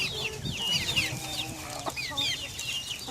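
A backyard flock of hens and roosters clucks and chatters continuously, several birds overlapping at close to middle distance, with occasional sharper squawks.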